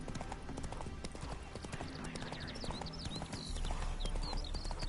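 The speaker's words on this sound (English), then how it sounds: "Spooking my horse." Horse hooves clip-clop at a steady walking rhythm in The Witcher 3, close and moderately loud, with faint whinny-like sounds mixed into the game ambience.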